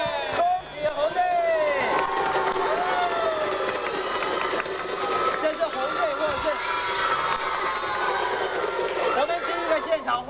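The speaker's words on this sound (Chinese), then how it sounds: "在我们的中庭的第二现场欢呼的声音，来听听看" A crowd in the atrium of a 1994 Hong Kong TV variety show studio cheers and screams continuously, with shouting voices layered over a dense, lively roar that stays loud throughout.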